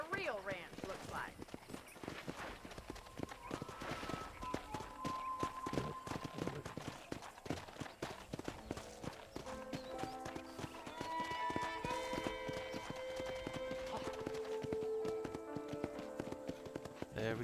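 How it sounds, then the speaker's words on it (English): Horse hooves clip-clop at a steady walking pace in Red Dead Redemption, an even rhythm of close hoof taps with an occasional snort and other game sounds layered beneath. "Just getting a little walkie-walk in with the horsey horse"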